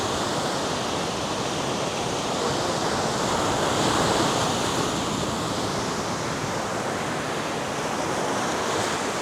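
Ocean surf rolling onto Nai Harn Beach in Phuket, Thailand, a steady, loud broadband wash of breaking waves that continues without pause, with no voices over it.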